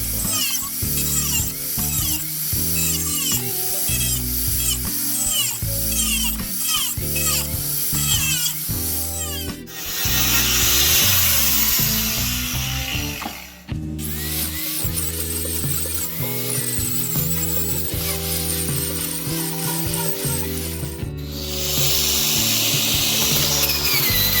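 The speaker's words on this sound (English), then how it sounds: "I'm cutting the actual shape I marked out to fit into the classifier" A power tool cuts a marked-out shape in metal to fit a one-inch gold classifier, with a harsh, loud whine in long runs broken by brief stops.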